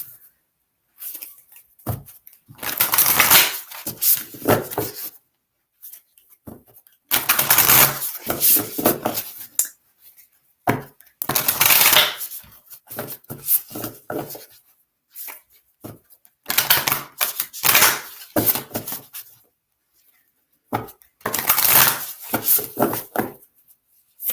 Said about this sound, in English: Okay, Deanna, I'm going to shuffle and pull an oracle card for you